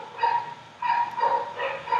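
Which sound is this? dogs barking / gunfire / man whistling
dogs barking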